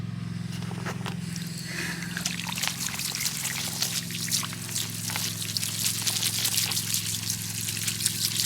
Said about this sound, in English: We've got to add some water to that and feed it